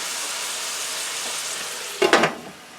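Zucchini and mixed vegetables cook in a pan with a steady low sizzle, then a short burst of louder stirring or scraping near the end.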